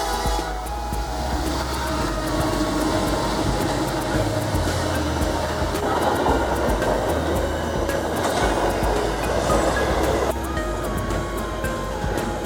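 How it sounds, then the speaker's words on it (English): A Norfolk Southern freight train with a KCS unit in the consist rumbles past nearby, a continuous loud roar of rolling wheels with rhythmic clicking over rail joints. "Norfolk Southern 243 with an ace leader, a KCS train second, and a C6M train third."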